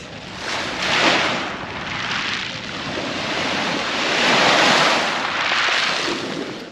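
Adriatic sea waves surge and break on a beach near Trani and Bari, Italy, in repeated washes, loud and close, with wind rushing over the microphone.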